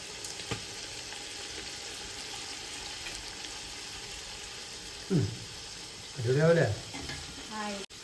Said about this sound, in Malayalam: ഒന്ന് ഫ്രൈ ചെയ്യാൻ ഇട്ടുണ്ട്